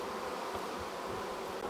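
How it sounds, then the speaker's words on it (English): Honeybees buzzing in a dense, steady drone close by as half a cup of them is scooped from a hive, a continuous low hum with no voices. "I got to scoop up half a cup of bees"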